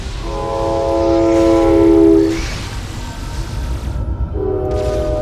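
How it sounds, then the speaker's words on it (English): In the video game Metroid Prime 3, a train closes in from behind with a loud, sustained horn-like tone over heavy rumble, then a second, shorter horn blast sounds. "Incoming train from the rear!"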